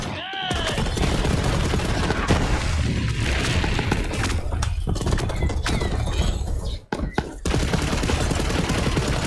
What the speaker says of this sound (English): Explosion! Is that what we've got on?